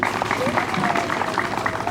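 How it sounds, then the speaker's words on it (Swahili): Applause from a crowd at a regional political committee gathering in Songwe, Tanzania, a steady dense clapping that stays loud throughout, with voices mixed in. "Tumpigie makofi."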